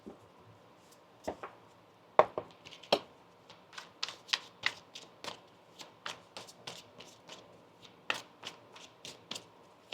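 Tarot cards being shuffled repeatedly, a steady run of crisp riffling flutters and light slaps, close up, with no voices.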